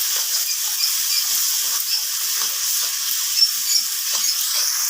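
Ginger paste and spices for a chicken curry fry in a pan, giving a steady, close hiss of sizzling that runs without a break and has no talk over it.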